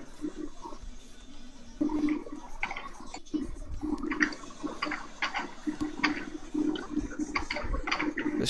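Water in a flooded room of a Minecraft-style video game, a continuous swirling, gurgling wash with bubbly churning, steady and fairly close throughout.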